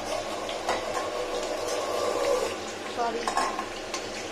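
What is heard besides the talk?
potatoes frying in oil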